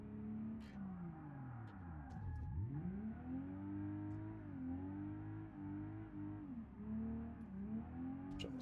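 A car engine in BeamNG revs hard through a drift lap, its pitch climbing, dipping sharply and rising again as the throttle is worked, steady and close with no talk.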